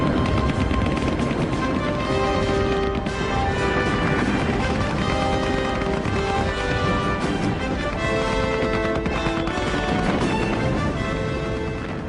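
Heavy gunfire during a World War I naval raid on blockships, a dense continuous barrage of shots and crashes running the whole time, loud and thick, overlaid with a steady music-like tonal bed.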